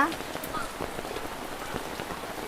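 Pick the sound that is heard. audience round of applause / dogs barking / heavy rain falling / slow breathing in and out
heavy rain falling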